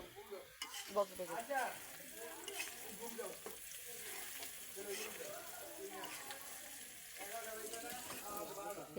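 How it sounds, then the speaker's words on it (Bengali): Onions sizzling and frying in hot oil for a tempering, with steady crackling hiss and some stirring, heard fairly faint and close under ongoing talk. "এখন যে বাগার দিব দেখো কতগুলা পেঁয়াজ দিয়ে দিছে"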